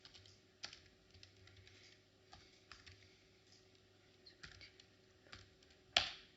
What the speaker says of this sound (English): And now I type the ref command and the name of the recorded reference file.